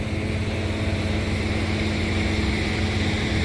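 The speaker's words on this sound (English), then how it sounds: "And you got all the trucks idling here." Several big trucks idle nearby in a parking area beside an abandoned Burger King in Mount Vernon, Texas, a steady, loud low diesel rumble with constant broadband noise throughout, no talking.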